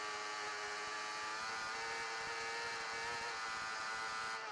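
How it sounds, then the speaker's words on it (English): A BMW superbike engine screams at high revs on an onboard Isle of Man TT lap, a constant dense howl held flat out with wind rush, steady and close throughout. "Oh, I love listening to that BM engine singing."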